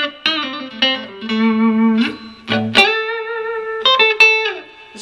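An electric guitar on the neck pickup plays a lead line of sustained, distorted notes with echoing delay trails, loud and close with no voices.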